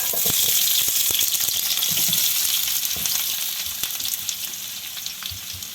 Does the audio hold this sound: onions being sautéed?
yes